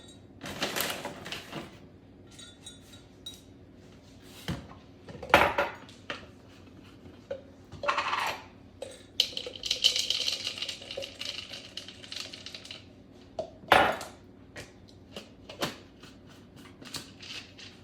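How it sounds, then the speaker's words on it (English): Dry puppy kibble clatters and rattles in short bursts as it is scooped with a measuring cup, with sharp scraping and clinking hits spread irregularly through the clip. "I usually just grab the food and I put about a cup in the measuring"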